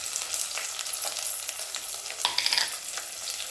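Green chillies, bay leaf and whole garam masala spices frying in hot oil in a pan for veg biryani: a steady close sizzle with soft stirring scrapes and a few small crackles, no voices.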